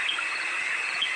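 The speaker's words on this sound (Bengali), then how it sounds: "ঝিঝি ডাকছে।" Crickets trill at night beside a quiet road lined with trees, a steady high continuous chirring, moderately loud, with no other sounds or voices over it.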